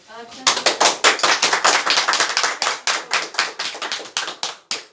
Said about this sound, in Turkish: Niye Rüzgar'ı daha çok alkışladınız kız?